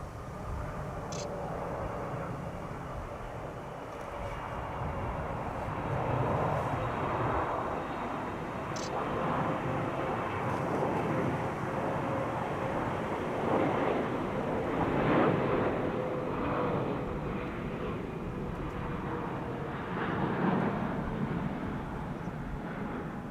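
Airliner four years old, first flown in December 2020, at Schiphol Airport: a steady broadband jet roar holds for the whole stretch at moderate distance, swelling slightly around the middle, with wind buffeting the microphone.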